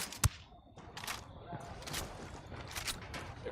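Turret gunfire in Ghost Recon Wildlands opens with one sharp, loud shot. Softer bursts and crackles follow under the game's muffled ambience.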